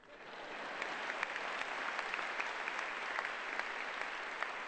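An audience at a 2016 college commencement ceremony breaks into sustained applause. Dense, even clapping from a large crowd fills the whole stretch, moderately distant and without speech over it.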